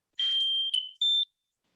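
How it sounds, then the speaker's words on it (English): A smoke alarm gives a shrill, piercing electronic beep, a long tone and then a shorter one, clear and alone against silence. "you'll hear the sound of the smoke alarm, and it will drive you nuts"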